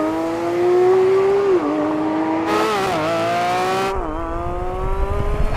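A Porsche 911 GT3 RS screams up through the gears in a drag race, its engine note climbing steadily with brief dips at each gear change, loud and close, with no talking.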